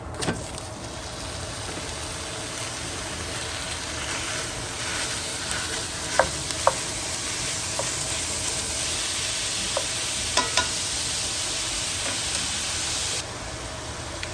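Beef for empanadas browning in leftover onion grease, a constant sizzle underneath with a few sharp clinks and scrapes as it is stirred.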